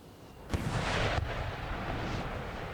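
Cannon fire from 4-pounder foot artillery on a hill in a Napoleonic Total War battle: a sudden heavy boom at about half a second, followed by a rolling, sustained rumble of distant shot and battle noise.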